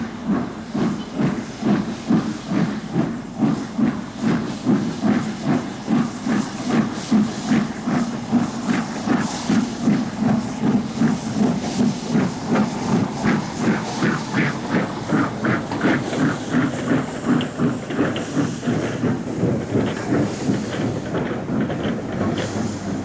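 The LNER steam locomotive Flying Scotsman working hard, with loud rhythmic chuffing exhaust beats over a steady hiss of steam, sustained and close for the whole stretch.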